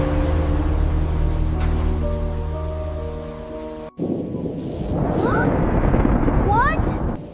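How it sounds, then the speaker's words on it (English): Rain beginning to fall in a storm outside a sleeping child's room, a steady rush of drops that grows louder after a sudden cut. Soft tones play beneath the first half, and birdlike chirps sound later. "Listen, rain is starting."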